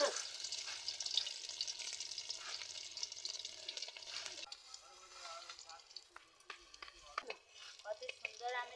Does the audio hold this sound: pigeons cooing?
no